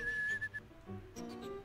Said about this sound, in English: Yeah, keep on whistling.